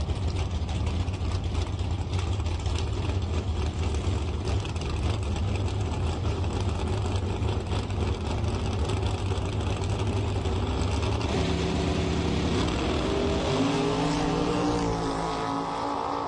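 Drag racing launch off the starting line at a bracket race, with a car pulling a big wheelie: a loud, continuous engine roar fills the scene, then shifts and rises in pitch as the car pulls away.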